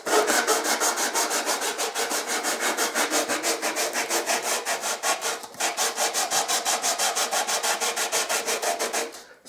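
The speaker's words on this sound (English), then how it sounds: "Sand until you've got the perfect profile." Abrasive paper stuck under a piece of angle rubbed back and forth across a mandolin tone bar, making a fast, even rhythmic rasping of strokes with one brief pause midway.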